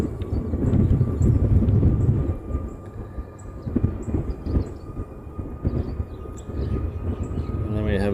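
An airliner departing Maui's Kahului airport for Honolulu rumbles in a low, heavy roar that swells and fades, heard from a distance with a voice talking over it.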